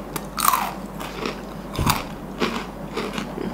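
Crispy fried long bean snack bitten and chewed, a few sharp crunchy bites with brittle crackling chews, close and clear, with no talking.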